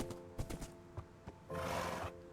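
A horse in Minecraft, with quiet snorting and clip-clop hoof thuds in short bursts, then a breathy neigh-like rush, all faint and with no talking.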